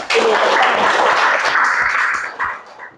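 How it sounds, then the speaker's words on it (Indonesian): A school class bursts into loud, dense hand clapping that holds for about two seconds, then trails off into a few scattered claps. "Ya, tepuk tangan buat Ruby."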